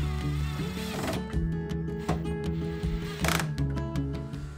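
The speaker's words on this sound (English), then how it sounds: "Once I have this panel in place, then I can go through and add in our screws." A power driver runs screws into a wooden wall panel, loud whirring bursts close by with steady motor hum and repeated sharp bites as each screw seats.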